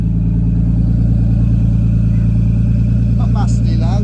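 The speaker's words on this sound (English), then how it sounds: "this is a cold start basically." A Nissan Skyline R33 engine idles after a cold start, a steady low rumble running throughout with a person talking over it.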